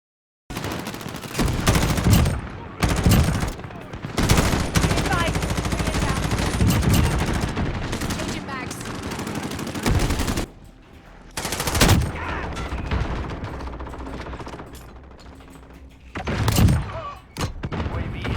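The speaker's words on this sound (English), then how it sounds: "opening fire with the gun is fun because of the visuals and the sound quality that comes out of the game" Bursts of rapid gunfire crackle in close, loud volleys with brief pauses between, Call of Duty Modern Warfare machine gun shots punctuated by heavier thuds.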